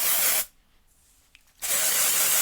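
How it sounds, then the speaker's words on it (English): A TIGI Copyright Revitalizing Dry Shampoo aerosol is sprayed onto short curly hair in two loud, close hissing bursts, with a brief quiet pause between them. "I'm going to start off with a little bit of dry shampoo just to give my hair a little bit of texture."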